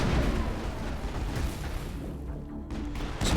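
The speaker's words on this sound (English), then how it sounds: "Ah, that's the grenade button" A grenade detonates in Mass Effect, a loud boom that rumbles and decays over a few seconds, followed by a short burst of noise at the end.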